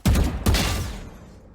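Two quick gunshots ring out in the shooter game Valorant, sharp loud cracks about half a second apart, the second trailing off into a fading echo.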